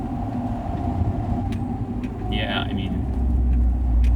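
Fiat 500 1.4 Sport engine accelerating hard in third gear, a heavy interior drone and rumble building louder toward the end, with people talking over it.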